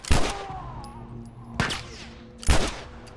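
Three loud, separate gunshots ring out in The Last of Us Remastered, each a sharp close crack with a short decaying tail, spaced over about three seconds.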